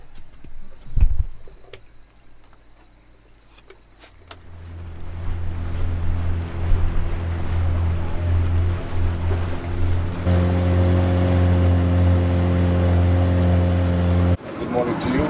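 A boat engine idles and runs on the Indian River in Dominica, a steady low droning hum that starts around four seconds in and continues loud and close until near the end, after a few sharp knocks at the start.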